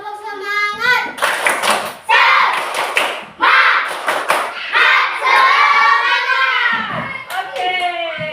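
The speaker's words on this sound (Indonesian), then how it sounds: "Tepuk semangat" Students in a classroom perform a rhythmic spirit clap, short clustered hand claps interleaved with loud group chanting, repeated in bursts close to the listener.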